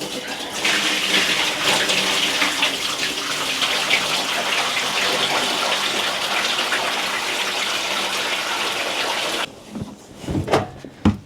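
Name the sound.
pouring out a bucket of soaking water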